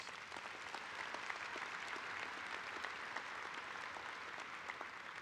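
Convention audience at the 76th CWA union convention breaks into steady, dense applause, a continuous wash of many hands clapping that holds evenly throughout without any voices on top.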